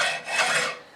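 Hand lapping of a warped engine head for a mini bike, a steady close rasping scrape of the head being rubbed flat against an abrasive surface, continuous for about a second.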